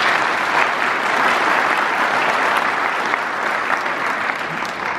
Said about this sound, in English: A round of applause, please, for Josh.